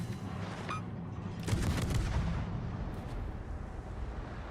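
Naval gunfire in World of Warships: a sharp salvo blast followed by a long rumbling boom, then continuous low heavy battle rumble with distant shots through the rest.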